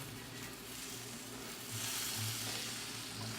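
Salmon pieces sizzle and fry in a pan with marinade, a steady hiss that swells louder toward the end as more pieces go in, with no talking.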